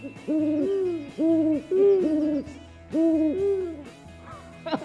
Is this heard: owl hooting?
yes